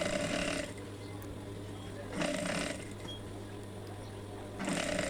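A sewing machine stitches piping onto the hem of an Alif Laila Afghani salwar in bursts, a steady mechanical whir and hum between louder stitching runs, close up.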